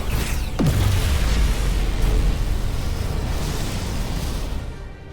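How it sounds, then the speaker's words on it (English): A dilithium crystal blows up in Star Trek: Resurgence: a sudden loud boom with a falling whoosh, then a long rumbling roar that slowly fades. "Dilithium explosion!"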